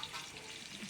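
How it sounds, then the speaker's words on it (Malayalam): Ginger frying in oil for pickle gives a brief, soft, even sizzle, close by and heard alone. "ഇഞ്ചി വറുത്തിട്ട്"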